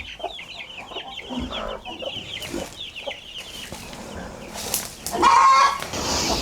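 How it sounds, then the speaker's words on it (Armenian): Farmyard chickens cluck and chatter steadily in repeated short bursts, with a brief flutter of wings and some scattered background clatter near the end. "այս էլ մեր ճուտիկները։"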